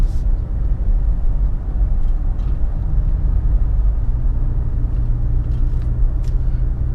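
A 2017 Mazda CX-5 cornering at about 50 mph, heard from inside as a steady low engine and road rumble with constant tire noise, no talking.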